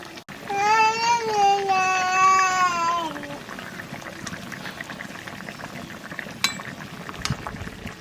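A 2.1 kg hilsa fish simmering in mustard paste: a soft, steady bubbling and sizzling close by, with a high whining tonal sound over it in the first few seconds and a few faint clinks later.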